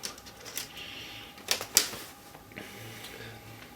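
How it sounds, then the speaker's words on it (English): Plastic screen bezel clips on a Lenovo ThinkPad T500 laptop are pried loose, giving a few sharp snapping clicks near the middle among quiet handling taps and scrapes, close and fairly soft. "Now I remove the bezel"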